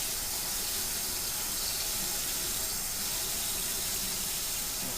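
Very hot water poured into a sanitized container while making wine from fruit concentrate, a steady hissing stream of liquid lasting several seconds, fairly quiet and close.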